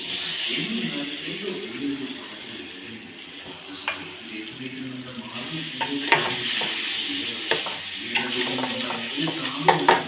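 Chopped ripe plantain frying in a pan with a steady sizzle, a spoon stirring it and knocking the pan now and then, close and fairly loud throughout.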